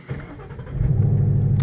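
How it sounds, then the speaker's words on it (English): A car's engine cranks in a garage and catches, then settles into a loud, steady idle running close by, with no one speaking. "if I crack the garage open here and then start the car"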